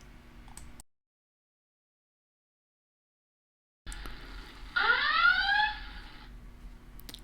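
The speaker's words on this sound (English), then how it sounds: "My alarm just got triggered." A trading platform's price alarm goes off once as a short burst of bright, rising electronic chirps, under a second long, close and clear over a faint room hum after a stretch of silence.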